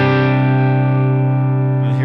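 One held electric guitar chord through a Boss Katana 100 MKII amp head, clean with light overdrive, sustains evenly and loudly, changing slightly as it fades near the end.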